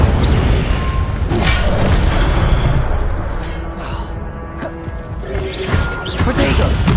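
Incendio fire spell cast repeatedly in Hogwarts Legacy, crackling whooshes and crashing impacts layered over dense game combat noise, loud and continuous throughout.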